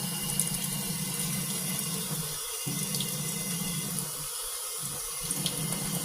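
Water runs steadily from a tap into dough on a homestead kitchen, a continuous hiss and rush with a few brief breaks, close and fairly loud.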